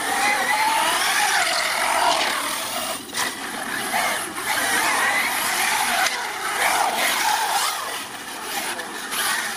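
An ARRMA Talion RC car scrapes and rasps across a concrete skate park, a loud, continuous hissy grinding with brief dips as it circles around.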